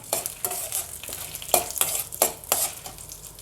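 Dry red chilies, black pepper, cumin, fenugreek and urad dal roasting in a pan for temple-style rasam, with a spoon scraping and stirring in a quick, regular rhythm over a light crackle, close up and without speech.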